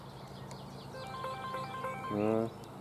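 A mobile phone rings faintly outdoors as a short melodic ringtone that rises to a louder burst near the end, heard over quiet countryside background noise.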